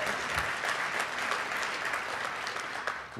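Audience applause at a university public affairs forum honoring a school dean, a steady dense wash of many hands clapping at moderate loudness, tapering slightly at the end.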